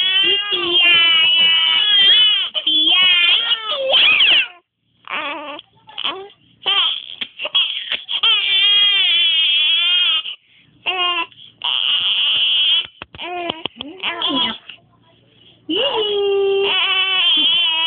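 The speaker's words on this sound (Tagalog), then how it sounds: "Tumigil ka muna ng kaiyak-iyak mo dyan." An infant cries loudly and persistently in a home, wailing in repeated bursts with short gasping pauses, while someone speaks scoldingly and soothingly between the cries.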